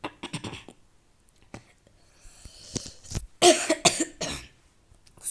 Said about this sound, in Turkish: ben çok fena öksürüyorum.